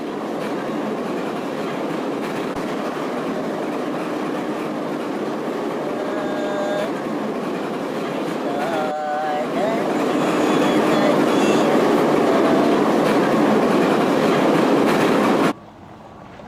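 Aero Express train riding into downtown Moscow, a steady loud rumble of wheels and carriage noise with faint squeals and tones mid-ride, continuing throughout before cutting off abruptly near the end.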